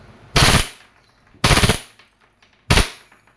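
A WE airsoft Glock 35 pistol fires three short full-automatic bursts, each a sharp rapid rattle about a quarter second long, spaced roughly a second apart and heard close with no talk.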